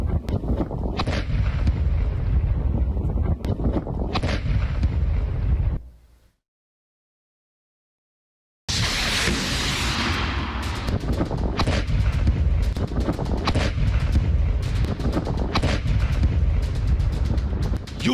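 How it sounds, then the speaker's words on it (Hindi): Loud rumbling blasts and heavy booming from a Russian air strike on Zaporizhzhia airport in Ukraine, with wind buffeting the microphone; a sustained roar breaks off into brief silence, then resumes with renewed crackling bursts. "धमाका कितनी तेज इंटेंसिटी का है,"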